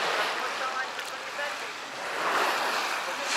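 Sea surf rolling onto a beach at a resort in Kemer in August, a steady broad wash of waves with a gentle swell in loudness and some wind buffeting on the microphone.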